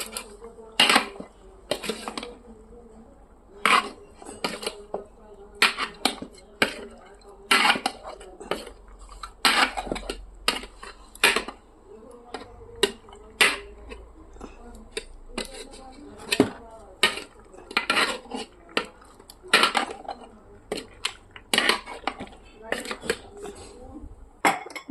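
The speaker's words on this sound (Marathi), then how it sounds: "मटण आता चांगलं मिक्स करून घेतलं" Mutton is stirred in a metal cooking pot over a wood-fired clay stove, producing sharp, irregular clinks and scrapes of a utensil against the pot. The sounds are close, repeated and continue steadily throughout.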